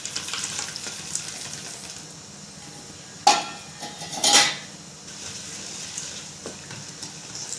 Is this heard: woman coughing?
no